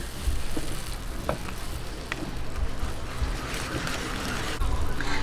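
A thick cassava suman mixture with coconut cream gets stirred in a pan, giving a steady low scraping and bubbling sizzle with faint clinks, close up and with no talk.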